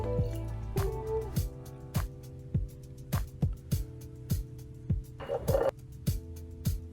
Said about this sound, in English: We're gonna add some Worcestershire sauce.